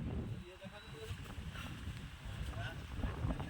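Cold wind blowing outdoors on a rooftop near the sea, heard as steady low rumbling gusts against the microphone throughout, with voices talking over it.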